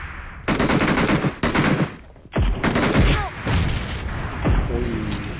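Gunfire from the PUBG Mobile heavy weapons mode: loud, dense automatic bursts and booming shots in several long volleys, close and harsh, with brief gaps between them.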